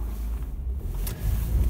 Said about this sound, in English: let's go for a drive in the car